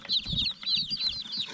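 Hens, some of them naked-neck chickens, cluck steadily in a farmyard, a run of close, repeated short calls with soft low thumps beneath.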